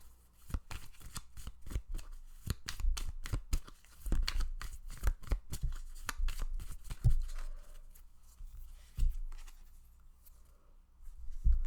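Tarot cards shuffled by hand in a rapid series of crisp riffling slaps and flicks, loud and close, continuing in bursts with short pauses, no talking.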